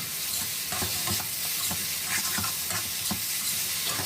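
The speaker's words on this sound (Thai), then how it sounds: "จากนั้นก็ใส่เป็นกุ้งปลาหมึกที่เราลวกไว้ครับ ผัดคลุกเคล้าสักเล็กน้อย" Fried rice with blanched shrimp and squid is stir-fried in a pan, with a constant sizzle and a rhythmic series of spatula scrapes and tosses throughout.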